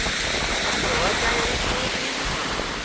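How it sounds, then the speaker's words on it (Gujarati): Rain falling in a village, a dense steady hiss close by that holds evenly throughout, with a faint voice briefly audible beneath it. "હા વરસાદ આવ્યો"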